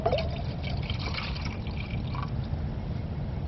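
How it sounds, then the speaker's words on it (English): Water is poured into a container inside a hot tent during four-wheeler camping, giving a steady close trickle and gurgle over a low background rumble. "Get some water in here without pouring it all over the floor."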